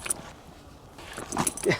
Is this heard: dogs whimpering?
yes